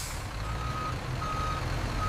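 A truck at a cassava rice processing factory sounds a steady series of high, evenly spaced reversing beeps over a constant low engine rumble, with no talk.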